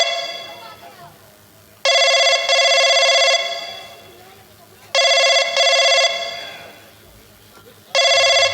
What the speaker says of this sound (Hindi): महाराज फोन आपका आया है